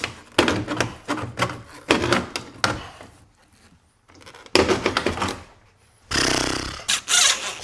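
Plastic mirror housings being cut off a Silverado truck with a power tool, heard as repeated loud harsh bursts of grinding and ripping separated by short pauses, ending in a sustained rough roar.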